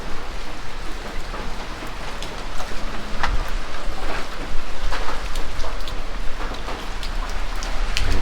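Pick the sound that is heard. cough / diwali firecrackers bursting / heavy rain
heavy rain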